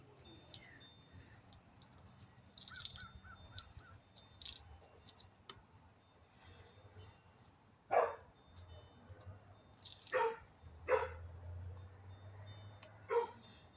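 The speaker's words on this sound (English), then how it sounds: "Dog barks non-stop." A dog barks repeatedly in irregular bursts, some close and sharp, others fainter, amid quiet background clicks and no speech.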